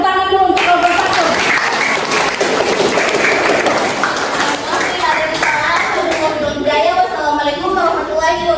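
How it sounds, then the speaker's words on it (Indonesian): A classroom of students applauds a presenting group at the end of an Indonesian-language lesson, with steady, dense clapping that fills the whole stretch and a few voices mixed in. "kalau tidak ada tanggapan ya tepuk tangan dulu untuk kelompok 1"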